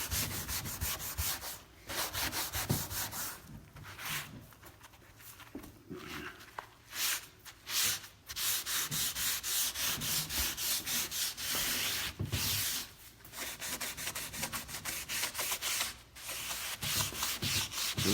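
Steady scrubbing and rubbing as a grit-embedded nylon pad works over sanded wood on an exterior window being stripped for repainting, continuous and close with brief pauses between strokes.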